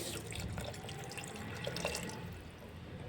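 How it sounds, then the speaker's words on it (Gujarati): About a cup of water is poured into a pan of Dhaba-style peas and potato curry, a steady splashing, running-water wash that stays fairly even for about three seconds, with no voices. "અત્યારે હું એક કપ જેટલું પાણી એડ કરીશ"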